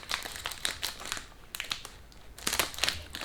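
Scissors cut open a plastic Lego parts bag for the Lego Defender, and the plastic gives a steady, close crinkling and rustling with a few sharper crackles, fairly quiet and with no talking.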